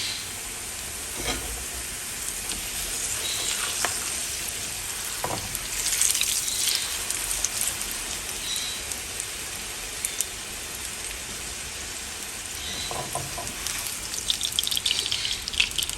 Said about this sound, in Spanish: Vamos a pasar nuestra tortilla por aceite.